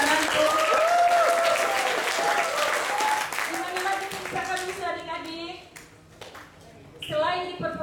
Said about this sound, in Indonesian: Tepuk tangan lagi dong biar kalian tuh.